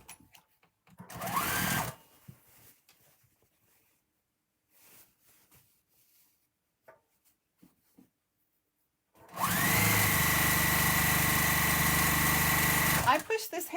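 Sewing machine stitching quilt fabric strips for a wavelength bargello quilt, a short loud burst early on, then a long steady run of close, loud machine whirring near the end, with quiet handling noises between.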